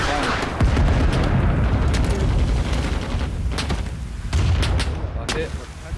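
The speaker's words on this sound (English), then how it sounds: "Wait, one more barrage." An artillery barrage in the video game Cold Waters gives loud, rumbling booms and crackling blasts that roll on continuously, with faint voices under the explosions.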